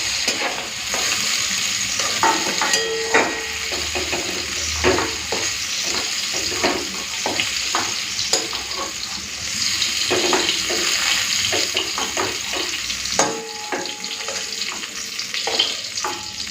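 Flat beans frying in hot oil in a pan while being stirred, a steady close sizzle with repeated scraping and clinking of the spatula throughout, no talking.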